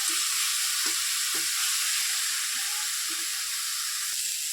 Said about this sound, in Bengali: দেখো টমেটোটা একদম সুন্দর করে কষা কষা হয়ে যাচ্ছে মশলাটাও আমার ভাজি হয়ে যাবে